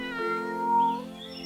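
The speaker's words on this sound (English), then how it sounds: "While strolling the garden, they saw a kitten." A cartoon kitten meows in a fairy-tale garden scene, a single drawn-out, high, clear meow that rises and wavers before trailing off, close and fairly loud with no talking over it.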